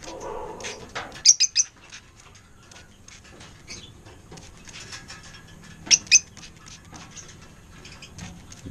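African lovebirds are sprayed with water for a bath, giving soft patter and bursts of wing flapping with a couple of sharp chirps, close by in a quiet room.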